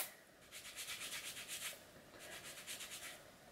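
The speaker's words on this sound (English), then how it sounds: "Really rub it in" Batiste dry shampoo is rubbed into a fringe of hair, giving a soft, close, rhythmic scrubbing of repeated brisk strokes with a brief pause in between.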